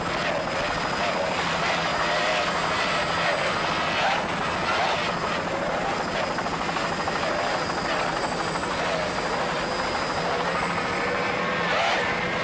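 The Taz S69 24-foot skater racing powerboat's engine roars and throttles continuously at a Grand Prix in Sunny Isles, Florida, a loud sustained drone blended with a commentator's voice talking over it.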